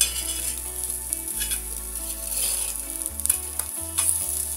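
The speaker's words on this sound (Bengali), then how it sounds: "মাছগুলোকে এখন আমি উল্টিয়ে দিব।" Taki fish frying in a pan, a steady loud sizzle with a few scraping, clattering touches as the pieces are turned, no voices over it.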